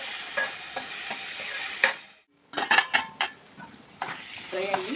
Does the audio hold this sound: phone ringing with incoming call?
no